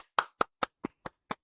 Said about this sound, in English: Some people clap in joy.